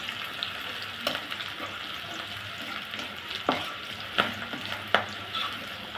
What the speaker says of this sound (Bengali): দিয়ে দিব ৬-৭টা কাঁচামরিচ ফালি, রসুন কুচি, পেঁয়াজ কুচি। হালকা করে একটু ভেজে নিব।